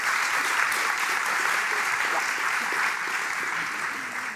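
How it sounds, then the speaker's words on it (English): A crowd applauding warmly, a dense, sustained clapping that holds steady and then fades slightly toward the end. "I would like to ask for a warm applause for Nina"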